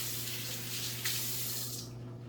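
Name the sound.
water running from tap while washing hands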